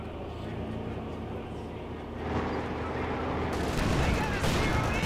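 Battle sounds from Company of Heroes 2, a World War II real-time strategy game, with gunfire, rockets and tank cannon from an M10 and a Panzer IV, rumbling continuously and growing louder and denser midway, under a commentator's voice.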